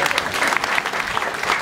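Loud, close clapping bursts from an audience in Jamaica for a talented little performing group, a brief, dense flurry of hands.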